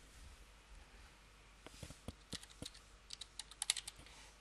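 Irregular keystrokes tapping on a computer keyboard, sparse at first then quicker clusters of clicks, fairly faint with no talking.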